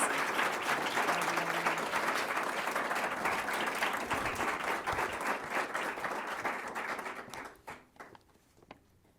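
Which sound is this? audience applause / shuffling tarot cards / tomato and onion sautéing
audience applause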